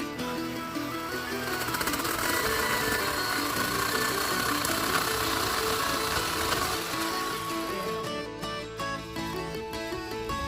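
A chainsaw runs steadily and loudly while bridge supports are being put in place, its engine holding a constant buzzing drone with dense harmonics for about ten seconds and no speech over it.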